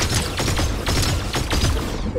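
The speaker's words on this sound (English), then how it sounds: "Evochrome burst rifle? It seems really good, except I can't hit my shots" An Evochrome burst rifle fires in Fortnite, loud repeated bursts of rapid shots layered over dense game noise, close and punchy.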